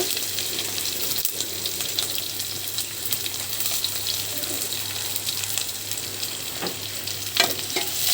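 Onion sizzles in a hot pan with garlic, bay leaf and dried red chilli for a dal tempering, giving a loud, continuous frying hiss with occasional spoon clinks and pops close by.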